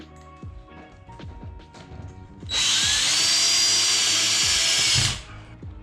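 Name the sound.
drill driving screw into drywall patch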